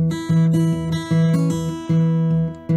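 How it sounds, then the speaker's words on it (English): Fingerpicked acoustic guitar plays a syncopated melody, notes falling between the beats over a steady alternating thumb bass, close and bright with ringing strings. "Now we're gonna syncopate that and play the melody notes in between."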